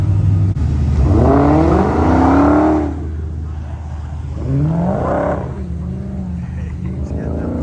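A hot rod accelerates around the cones of an autocross course, its engine rising and falling in two loud revving surges with a steady rumble between them.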